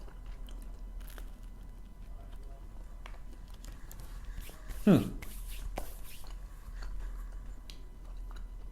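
Crunching bites and chewing on a bagel bought in Richmond, Virginia, with one loud close bite standing out amid quiet mouth sounds.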